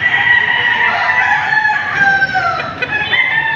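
A rooster crows loudly and close at a gamefowl market in Padre Garcia, Batangas, one long drawn-out crow holding steady over the full stretch against busy market background noise.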